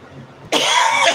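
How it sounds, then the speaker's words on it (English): A single harsh cough bursts out close to the microphone after a brief quiet moment, loud and raspy. "This cough keeps happening"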